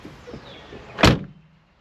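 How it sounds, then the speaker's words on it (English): A Jeep door swings shut with a single solid thunk, brief and close, after some quiet rustling, with no talk. "So now we should be able to close the door."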